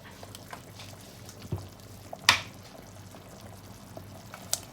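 Fish sauce is poured into a pot of spicy chicken tom yum soup, a brief liquid splash among faint bubbling and a few small clinks.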